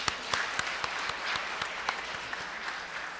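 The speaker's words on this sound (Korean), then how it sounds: "네, 박수 쳐주시죠." Audience at a Catholic parish gathering claps during a prize raffle drawing: a steady wash of applause for about three seconds, with a few louder individual claps standing out near the front.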